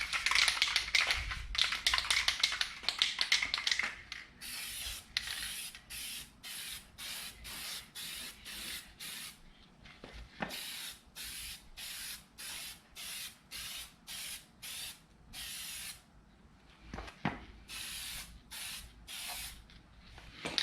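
Spray can laying base coat and clear coat on a car fender, heard as a long run of short, even hissing bursts in a steady rhythm, close and fairly loud, with a denser stretch of spraying at the start and no talk.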